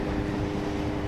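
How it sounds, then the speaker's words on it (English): A BMW K1200S motorcycle with a Two Brothers aftermarket exhaust gives a steady, deep, droning engine rumble while riding, continuous and close with no talk. "It's a nice exhaust, sounds awesome. It's a Two Brothers exhaust."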